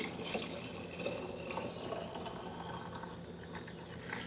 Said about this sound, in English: Now we're going to go ahead and fill our jars.